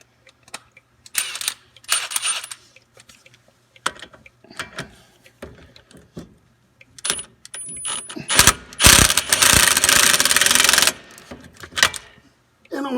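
A quarter-inch drive power tool runs in bolts on the brakes of a 2008-2012 Chevy Malibu, with scattered ratcheting clicks and a loud, sustained whirring burst near the middle.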